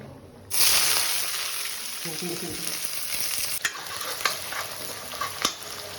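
Onions drop into hot oil already spiced with cloves, cardamom, cinnamon and a little sugar, bursting into a loud hiss that settles into steady sizzling, punctuated by sharp clacks of a spoon stirring the pan.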